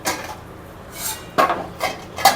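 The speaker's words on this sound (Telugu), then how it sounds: "ప్లేట్ ఎత్తుకున్నానా." A plate lifted in a home kitchen after cooking, giving a few short clinks and scrapes of crockery, close and moderately loud, spaced unevenly over a couple of seconds with no talk.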